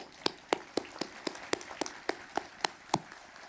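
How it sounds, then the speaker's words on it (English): Faint, evenly spaced claps, about a dozen sharp hits in a steady rhythm, come from an audience at a high school graduation ceremony, with no talking. "let's give him a round of applause, everyone."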